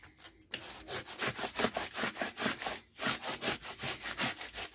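A paper shopping bag being folded and burnished, with a quick run of rhythmic, close rubbing strokes, each a loud papery scrape, continuing steadily with only a brief pause.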